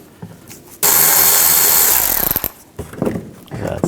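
A power tool fitted with a T20 socket spins out a bolt on a 2009-17 Chevy Traverse headlight mount, a loud close whir of under two seconds that winds down, followed by clinks and handling noise.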